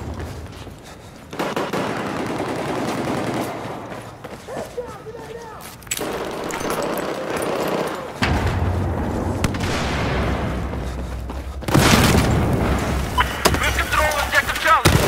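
Gunfire and explosions in Battlefield 4 come in loud, shifting bursts, with booming blasts and rattling shots that change abruptly between sections of intense combat noise.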